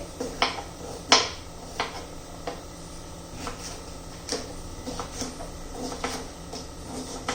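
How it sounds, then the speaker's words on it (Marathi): A knife slices bell peppers (capsicum) into long strips on a board, giving a series of sharp, irregular cutting taps and clicks at close range over a quiet background. "सर्व सिमला मिरची मी ह्या पद्धतीने कापून घेते"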